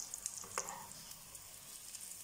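Boiled eggs frying for egg 65 in a small amount of oil, giving a steady, quiet sizzle with faint crackles and a couple of brief stirring or turning clicks near the start, and no talking.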